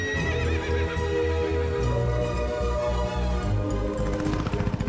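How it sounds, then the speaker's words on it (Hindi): A horse whinnies loudly and close, with clip-clopping hooves joining toward the end, alone without talk. "घोड़े पे सवार होकर आएगा"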